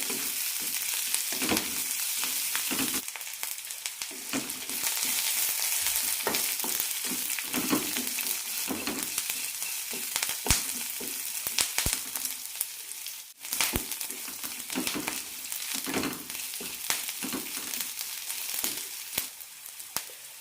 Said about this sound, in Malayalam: സവാള ചെറുതായി ചുവന്ന് കിട്ടണം അതുവരെ വഴറ്റാം